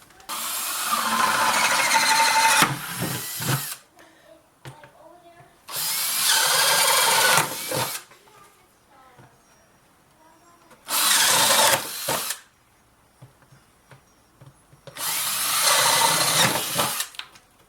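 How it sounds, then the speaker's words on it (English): A power drill with a 7/8 inch bit boring holes in a plastic bucket, four loud bursts of whining drilling separated by quiet pauses with faint handling sounds. "So I'm going to drill this with a 7/8 inch bit, and I'm going to make at least 5 holes."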